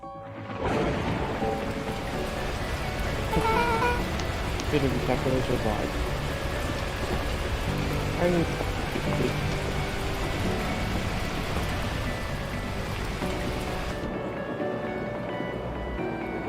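Torrential rain pours in the video game Beacon Pines, a steady dense hiss that fills the whole stretch and cuts off near the end, with someone talking over it.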